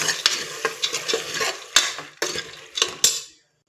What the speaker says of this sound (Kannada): ಈಗ ಇದನ್ನು ಸೇರಿಸ್ಕೊತಾ ಇದ್ದೀನಿ ಸೇರಿಸ್ಕೊಂಡು ನೀಟಾಗಿ ಮಿಕ್ಸ್ ಮಾಡ್ಕೊಳ್ಳಿ